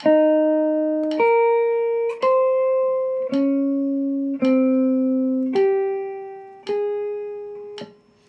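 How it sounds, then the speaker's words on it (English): A plucked guitar plays steady single notes in an even pulse, each ringing until the next attack, with no other sounds around it. "I'm just gonna play quarter notes with the metronome"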